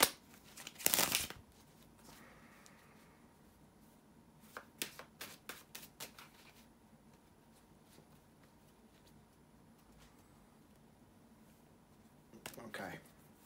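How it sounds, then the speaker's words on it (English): Tarot cards are shuffled by hand in a quiet room: a sharp riffle, a run of quick crisp card flicks, then another short shuffle near the end. "bear with me just a second, guys, to shuffle the tarot cards"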